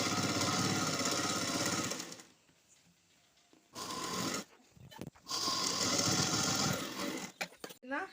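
A sewing machine stitches an embroidered blouse seam in bursts of rapid mechanical whirring, stopping for quiet gaps between runs, close and fairly loud.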